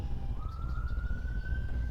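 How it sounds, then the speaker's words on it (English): A siren wails outside, its single tone gliding slowly upward and holding steady over a low rumble of passing traffic, moderately close and unbroken. "do you guys hear that siren?"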